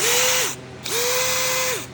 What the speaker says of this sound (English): Here's the power drill.